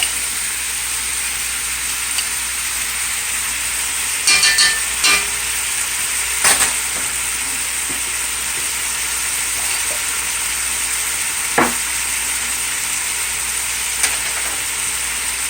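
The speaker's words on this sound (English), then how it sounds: "And now I'm going to add some black bean sauce." Black bean sauce goes into a hot pan with deli-meat pepper steak, a steady loud sizzle with a few sharp clanks and scrapes of utensils against the pan.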